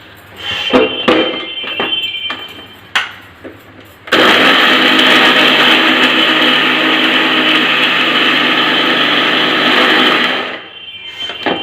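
Kitchen mixer grinder blending carrot juice ingredients with sugar and Boost or Horlicks powder, a loud steady whirring roar that starts abruptly after a few faint clicks and knocks, runs continuously for about six seconds, then cuts off.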